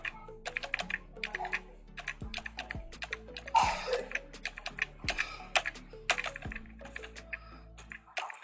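Steady computer keyboard typing of an SQL insert command for a PostgreSQL table, with irregular bursts of close key clicks and a few heavier thumps, probably the space or enter key, with no talking.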